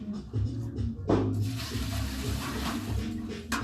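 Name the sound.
water in a bucket of warm water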